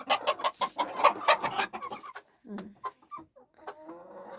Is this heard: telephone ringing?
no